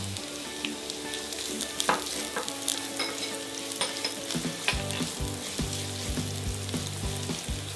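Garlic and onion sautéing in hot oil in a pan, a steady crackling sizzle with occasional stirring clatter, close and moderately quiet.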